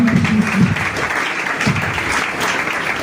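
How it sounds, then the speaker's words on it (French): Church congregation clapping together in sustained applause through the whole stretch, dense and steady with a few voices and cheers rising briefly within it. "Acclame-le ce matin."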